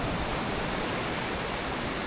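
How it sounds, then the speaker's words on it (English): A rushing river roars close by on an outdoor walk, a steady, dense broadband wash of moving water with no voices over it. "It's too much noise from the river."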